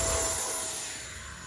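E-Flite Viper 64mm ducted fan RC jet flies past with a steady, broad whooshing whine that slowly fades as it moves away.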